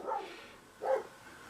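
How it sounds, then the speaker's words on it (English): Two short dog barks at cows outdoors, one near the start and a louder one near the end of the clip with a quiet pause between, fairly distant and with no talking. "What is my doggy barking at here?"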